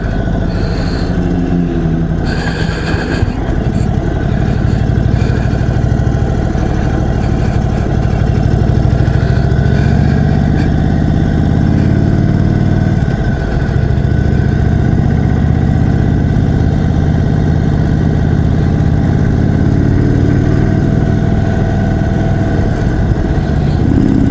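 A 2021 Indian Chief Dark Horse custom cruiser's big engine drones steadily and loudly throughout while riding, a continuous low rumble with slight swells in pitch and load and no talking.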